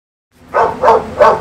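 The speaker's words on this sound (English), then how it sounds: "Another nightly walk with my dog Roxanne." A dog out on a nightly walk gives three close, loud barks in quick succession.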